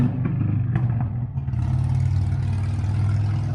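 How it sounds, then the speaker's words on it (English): A loud Harley-Davidson motorcycle engine rumbles nearby with a deep, steady, throbbing idle that thickens as it revs slightly partway through. "loud Harley over here."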